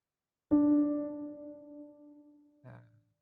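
A single sustained piano note rings out clean with no effects, decaying slowly over a few seconds, followed by a brief, softer second note near the end.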